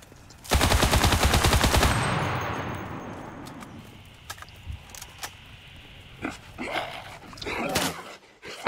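Gunfire in the Cuisine Royale video game: a loud burst of rapid automatic fire up close, then scattered sharp single shots and distant pops over quieter game ambience, no talking.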